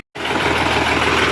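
A tractor engine, one with weak brakes working on a slope, runs loud and close in a steady, unbroken drone after a brief silent start.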